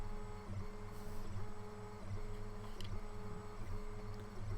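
A Comgrow Z1 10W diode laser engraves plywood with a quiet, steady whirring of moving motors, its even buzzing tone pausing briefly and resuming in a regular back-and-forth rhythm, alone without talk.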